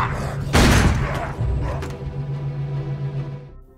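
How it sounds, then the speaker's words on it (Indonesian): A gunshot in a zombie film, one loud boom followed by a decaying, echoing rumble and clatter in the soundtrack. "ada suara tembakan, terus zombie-zombie pada jatuh satu persatu"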